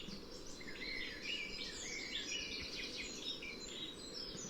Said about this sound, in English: classic blackbird